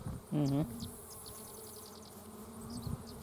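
Honey bees buzz around an open hive up close, a steady droning hum with a louder pass of individual bees flying near, and no talk.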